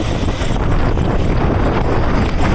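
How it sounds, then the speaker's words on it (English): Strong wind gusts buffet the microphone at a truck stop, a loud continuous roaring rush filling the whole clip with no voices. "Oh, it's pretty windy over here."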